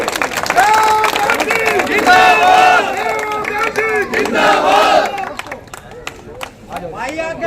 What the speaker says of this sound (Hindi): कृपया जोरदार तालियों से स्वागत कीजिए